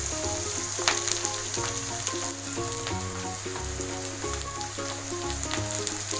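Red chili, coriander and turmeric frying in oil in a pan for South Indian sambar, a continuous dense sizzle with repeated scraping stir strokes, close and steady, no voice.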